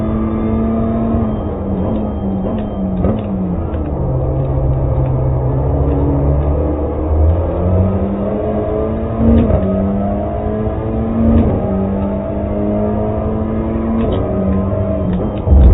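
TCR touring race cars at Zandvoort roar loud and close throughout, engines revving up and down through gear changes in a steady, continuous drone.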